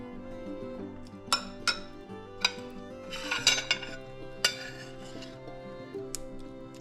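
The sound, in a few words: spoon clinking in a dish of mutton curry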